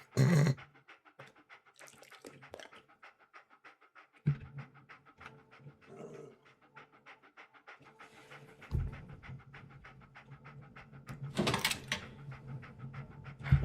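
A dog in the game Fallout 4 panting in quick rhythmic breaths, close and fairly soft, with a few louder bursts and brief gaps along the way.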